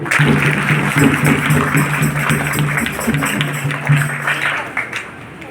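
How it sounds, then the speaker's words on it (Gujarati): Crowd clapping at a retirement farewell gathering, a dense steady wash of applause that holds through, with a faint voice underneath. "એના માટે જોરદાર તાળીઓ"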